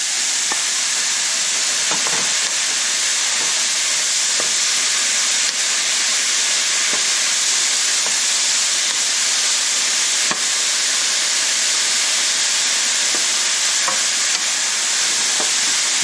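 Beef and broccoli stir-frying in a hot pan give off a loud, constant sizzle and hiss, with occasional faint clicks of stirring throughout and no talking.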